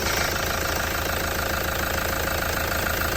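Toyota Fortuner 3.0 diesel engine idling steadily after a turbo repair, a continuous low rumble with a faint rhythmic knock, close by and alone with no talk.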